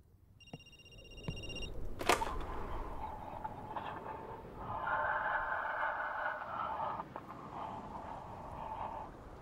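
In a horror video game, a telephone rings with electronic tones that repeat in short bursts over an eerie, low ambient drone.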